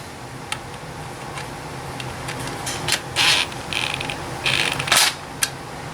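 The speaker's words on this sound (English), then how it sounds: "Now I'm going to tighten them." A ratchet tightens the fasteners on an Orion HCCA 124 speaker being reconed, producing a close run of mechanical clicks and short bursts of rapid ratcheting.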